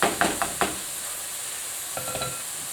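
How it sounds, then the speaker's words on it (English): Ground meat for shepherd's pie sizzles steadily in a hot pan over high heat, a constant hiss with a few scraping stirs and clinks of a utensil against the pan. "Now my temperature is quite high at the moment because I am frying off the meat."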